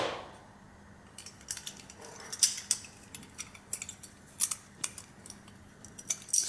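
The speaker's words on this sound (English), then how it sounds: "then we put the screws back in place" Screws being refitted into the brace of a plastic rat blocker flap unit for a drain inlet, giving sparse, sharp small clicks and metallic taps at irregular intervals over a quiet room hum.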